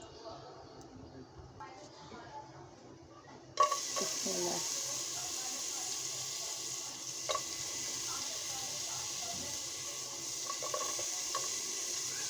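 Bottle gourd goes into a pot of cooked masoor lentil dal. After a quiet start with a faint voice, a sudden steady hissing sizzle starts and continues, with occasional soft stirring knocks.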